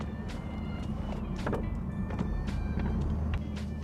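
A BMW Z4 M40i (G29) convertible's engine hums steadily with a deep low rumble inside the cabin with the roof closed, with a few faint clicks and ticks over the drone.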